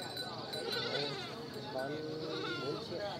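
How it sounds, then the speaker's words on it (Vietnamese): Goats, kids among them, bleat at a highland market in northwest Vietnam, wavering cries rising over constant chatter and crowd noise. "Ở đây có cả dê con luôn này."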